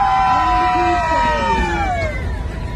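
Passengers aboard an old steam train at Silver Dollar City screaming together in a screaming contest, a loud wavering chorus of high voices that swells and then fades into crowd noise.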